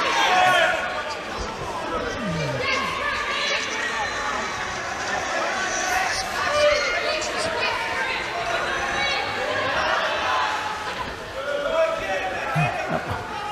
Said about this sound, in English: as you can hear, Nicholas Hopewell's fans cheering her on